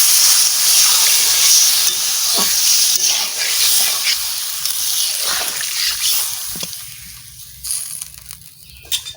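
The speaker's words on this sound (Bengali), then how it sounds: "এবারে জল দিয়ে দিচ্ছি" Water poured onto frying drumstick and potato sets off a loud hissing sizzle with splattering that gradually softens and thins out toward the end.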